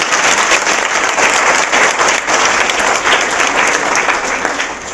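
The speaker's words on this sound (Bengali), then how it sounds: "সেজন্য জোরে একবার হাততালি।" Loud, sustained applause from a church congregation welcoming the New Year, a thick continuous wash of clapping hands that holds steady and tapers slightly at the end.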